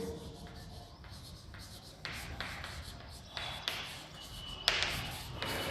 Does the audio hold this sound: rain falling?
no